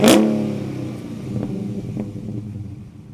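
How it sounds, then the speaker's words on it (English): A Dodge Challenger with a Hemi V8 lets out a loud close rev at the start that quickly fades into a lower rumbling idle with a couple of small throttle blips. "Ford and GM make some of the best V8s in the world with that incredible soundtrack, and the Dodge Challenger is no different."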